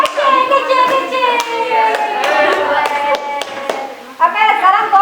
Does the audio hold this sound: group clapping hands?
yes